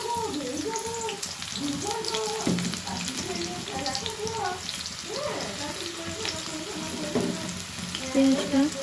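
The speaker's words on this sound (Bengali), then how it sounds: "তেলটি গরম হয়ে এলে একটু নেড়ে চেড়ে তার মধ্যে আমরা দিয়ে দেবো পেঁয়াজ কুচি" Chopped onion fries in hot oil in a kadai with a steady crackling sizzle and occasional stirring scrapes, while a person talks over it.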